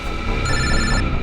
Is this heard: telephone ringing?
yes